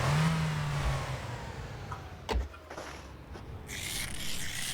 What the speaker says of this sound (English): Can I just hear the roar of an engine, please?